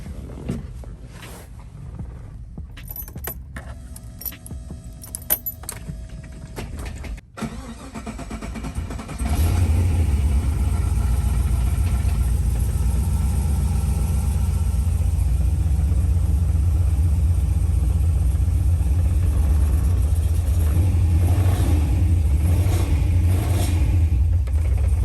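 An LS-swapped Datsun Z cranks briefly, then fires into a loud, steady, deep-chested idle that rumbles on unbroken up close, without any talking.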